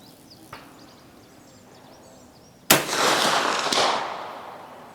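A Mauser 1871 rifle fired at a target 200 yards away outdoors. One sharp loud report cracks out partway through and a second shot follows about a second later, each decaying into a rolling echo, with faint birdsong earlier.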